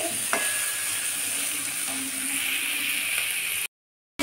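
Yardlong beans, papaya and potato cook down with spices in a pan, giving a steady close sizzle with a few faint stirring scrapes, then a brief break near the end.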